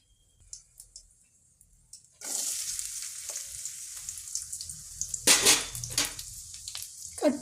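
A few faint clicks, then chopped small onions drop into hot oil and burst into a sudden, loud sizzle that continues steadily, with bright crackling spikes and stirring scrapes partway through.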